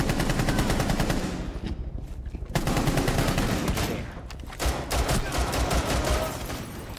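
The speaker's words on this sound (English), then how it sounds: "Right. Being shot at." Sustained automatic gunfire from Rainbow Six Siege rattles in dense, rapid bursts throughout, loud and close, with brief lulls between volleys and faint voices mixed underneath.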